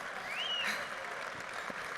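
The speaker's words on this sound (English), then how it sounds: "Round of applause." An audience at a social media training course claps briefly, a soft, steady patter of hands from a modest crowd at a distance, with no speech over it.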